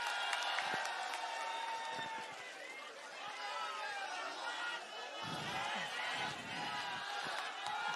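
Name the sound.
rally crowd applauding and cheering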